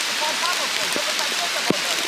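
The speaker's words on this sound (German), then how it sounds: "Wir wussten gar nicht, dass es heute regnet." Sudden rain falls on a campsite, a steady close hiss of drops pattering on surfaces with a few sharper taps, while people speak over it.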